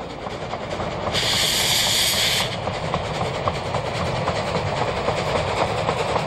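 Narrow-gauge steam locomotive 99 4511 runs on the Rügen line with a loud, continuous rumble of wheels and clattering rail noise. A burst of steam hiss rises for about a second near the start.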